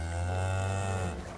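A cow mooing in the fantasy game Tainted Grail: The Fall of Avalon, one long, low, sustained moo that stays steady and then tapers off at the end, with no talk over it.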